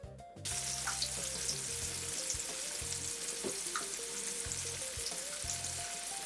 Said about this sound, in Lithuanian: Tai pavadinkim net ne kepimas, o virimas aliejuje, fritiūrinimas.